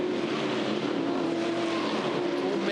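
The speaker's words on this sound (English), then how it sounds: "Paul Manuel back there with Wade Henshaw as they file through the chicane complex" NZV8 V8 race cars at the ITM 400 Hamilton street circuit file through a chicane, their engines roaring steadily and loudly with a rising whine near the end and no audible speech.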